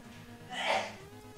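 A single sneeze bursts out in a quiet room, rising to a brief peak and fading, with faint background hum.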